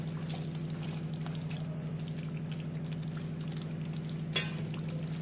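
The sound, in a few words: prawns added to thickened curry, sizzling in the pan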